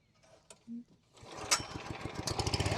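A Billy Goat Plugr 18 lawn aerator's small engine, on full choke with the throttle halfway, catches and settles into a rising, close, rough putter after a few faint pulls and knocks.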